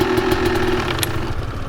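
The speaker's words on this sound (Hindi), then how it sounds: "जनरेटर बंद कर।" A generator running nearby, a loud steady mechanical drone with a low hum and rapid knocking pulses, continuing without pause.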